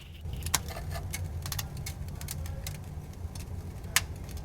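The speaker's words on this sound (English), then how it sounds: "you can actually hear it starting to crack the sound deadening because it's freezing the adhesive that holds it to the car" Sound deadening in a car cracking as dry ice freezes its adhesive: sparse, sharp little clicks and snaps, some close and some faint, scattered irregularly over a steady low rumble.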